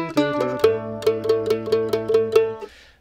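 Closing line of a bluegrass tune, plucked as a crisp run of distinct, deliberate notes over a sustained low tone, ending with a short fade.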